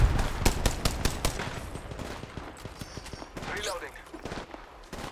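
Rapid bursts of automatic gunfire in the mobile shooter game Apex Legends Mobile, loud cracks coming in quick volleys over the first seconds, then thinning as other game sounds and effects carry on beneath.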